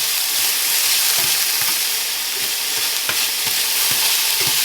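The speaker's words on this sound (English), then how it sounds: "I always cook the onions and peppers and garlic for a minute or two prior to adding the hamburger. And let that saute in a little bit of oil." Onions, peppers, garlic and hamburger sauté in a little oil, giving a steady, loud sizzle and hiss with occasional soft stirring scrapes and pops throughout, with no talking.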